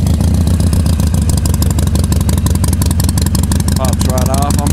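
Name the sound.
Harley-Davidson Sportster 883 fuel-injected motorcycle engine running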